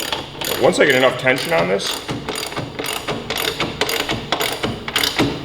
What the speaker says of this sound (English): Get our ratchet going in the right direction.